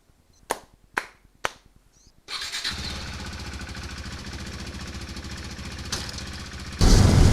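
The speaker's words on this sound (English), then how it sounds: "the reason why I'm doing this exhaust sound video is because of an exhaust" A KTM 390 Duke motorcycle on its stock exhaust makes three sharp clicks, then fires up and settles into a steady, close idle that jumps louder toward the end.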